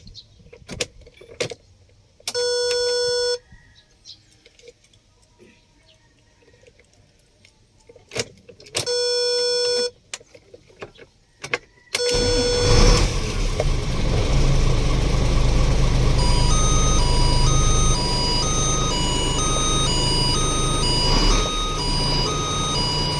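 Keys jingle in the ignition and warning chimes sound twice. Then the car cranks and its engine fires up right after an alternator replacement, settling into a steady, close idle with recurring chime beeps over the running motor.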